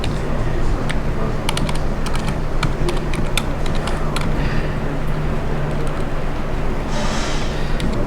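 Rapid keystrokes on a computer keyboard at a workstation, with irregular bursts of clicking over a steady background hum and no talking.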